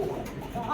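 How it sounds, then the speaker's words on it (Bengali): A pair of Arabian coca pigeons gives a single short, soft coo, close by and faint. "কত সুন্দর ডাকলো দেখতে পেলেন"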